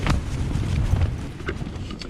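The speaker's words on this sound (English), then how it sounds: "this wind is now actually dying down" Strong winter storm wind buffets the mountains, roaring steadily and close for a couple of seconds with gusty swells.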